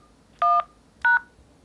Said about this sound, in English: Please enter your password, then press pound.